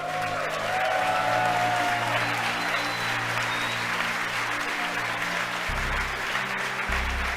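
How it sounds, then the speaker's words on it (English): Applause fills SpaceX mission control after a Falcon Heavy launch passes maximum dynamic pressure, a steady roomful of clapping from staff heard throughout alongside a low hum of equipment and engine-like rumble. "You can hear the applause behind me as we've gotten past maximum dynamic pressure."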